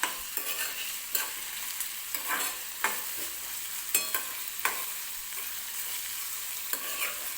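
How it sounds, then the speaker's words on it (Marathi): Potato bhaji with green chilies and curry leaves is stirred while it fries, giving a soft continuous sizzle broken by regular scraping and knocking strokes of a spoon against the pan. "तर आता हे सगळं मिक्स करून घ्यायचं, म्हणजे सगळं एकत्रित व्यवस्थित भाजलं जाईल."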